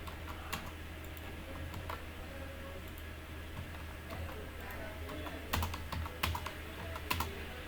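Keys tapped on a computer keyboard while a post is written, sparse irregular clicks over a steady low hum, with a short quick burst of keystrokes near the end.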